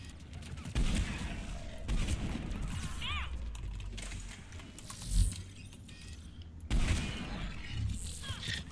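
Rapid gunfire in Mass Effect multiplayer from a human soldier's gun, a sustained rattle of quick shots in bursts with brief pauses and a heavier thump partway through, close and loud.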